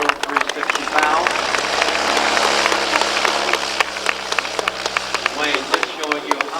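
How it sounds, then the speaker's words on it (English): Loud, dense applause from a large crowd at the Reno National Air Races and airshow, a steady wash of clapping with a voice speaking over it throughout. "your applause and appreciation"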